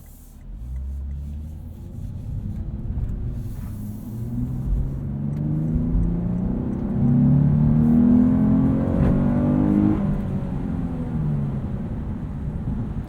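A 2022 Lexus RC 350 F Sport AWD engine revving up in second gear from inside the cabin, a low droning rumble climbing steadily in pitch and loudness, then easing off near the end, with no talk.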